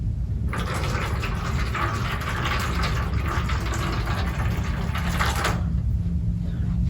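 Water pours into an aluminum foil pan in a steady stream for about five seconds, then cuts off. The sound is close, over a constant low background hum, and no one speaks.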